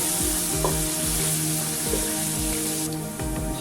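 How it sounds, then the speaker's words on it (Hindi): Onions sizzle and crackle steadily in a hot pan as they fry toward golden brown, with occasional scraping of a spoon stirring, close up and no voices. "प्याज को अच्छी तरह जो है इसको भूनना है, गोल्डन ब्राउन करना है"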